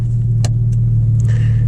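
Porsche 996 GT2 engine idling steadily close by with a low, constant rumble after starting, aftermarket exhaust fitted, and a few short clicks and rattles over the drone.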